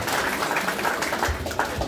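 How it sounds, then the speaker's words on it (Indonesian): Audience applause at a community gathering for Pi Network supporters, a steady dense wash of clapping held at an even level for about two seconds, with no clear voices over it. "Sekali lagi tepuk tangan untuk Pak Buhori dan teman-teman yang sudah berjuang untuk kita."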